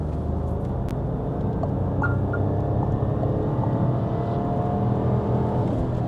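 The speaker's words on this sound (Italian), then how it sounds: "Ogni tanto starò zitto per farvi sentire il motore come va" A Renault Captur running on LPG accelerates onto a motorway, its engine a steady low drone blended with road and wind noise from inside the cabin, continuous and moderate with no speech.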